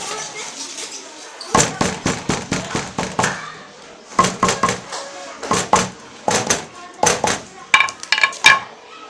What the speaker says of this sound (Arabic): الشاكوش